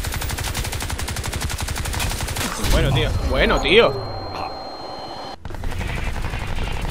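Rapid automatic gunfire from the shooter video game Crysis 2 crackles in bursts through the middle of the clip, mid-distance, with someone speaking Spanish before and after the shots.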